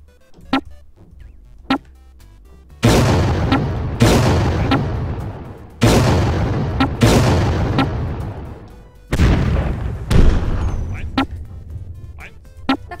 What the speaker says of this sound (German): Bombe setzen, boom, Bombe setzen, boom. Und es macht boom.